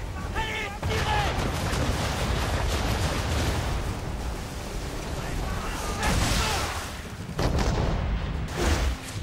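Cannon and gunfire boom through a battle in the Assassin's Creed 3 video game, with dense, rumbling blasts over a steady clatter while voices shout orders.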